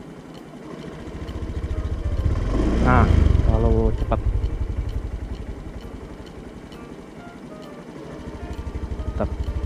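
An automatic scooter engine idles close by, then the throttle is twisted so the revs rise and fall, with a louder swell early on and another climb near the end, while a person talks over it.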